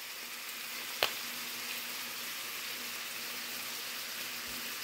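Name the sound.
burger patties frying with garlic butter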